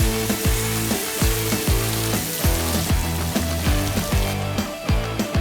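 Chopped onions frying in a pan give a steady, fairly loud sizzle with rhythmic stirring scrapes throughout, no talk.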